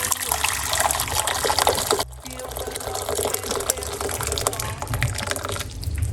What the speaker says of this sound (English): now we're going to put a large cups of hot water